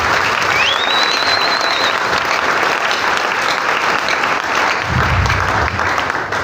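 A church congregation applauds and cheers at a Sunday service, a steady dense wash of clapping and crowd noise filling the whole stretch, with a short whistle-like tone early on.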